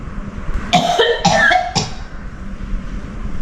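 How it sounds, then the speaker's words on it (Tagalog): A few sharp coughs in quick succession, fairly close, over a low background hum. "umuubo siya."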